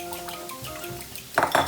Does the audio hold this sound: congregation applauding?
no